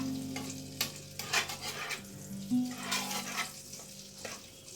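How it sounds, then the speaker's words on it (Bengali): Garlic fries in butter melted in an oven for a homemade chicken sandwich, a soft close sizzle with repeated spoon scrapes and stirring bumps and nothing spoken. "বাটারটা মেল্ট হয়ে গেছে, প্রথমে রসুনটা দেওয়া হলো"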